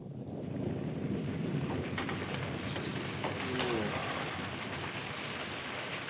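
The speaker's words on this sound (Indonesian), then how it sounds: "Tiba-tiba hujan turun." Sudden rain falling in an old black-and-white film, a steady, dense hiss of downpour filling the whole scene, with faint bird cooing drifting through.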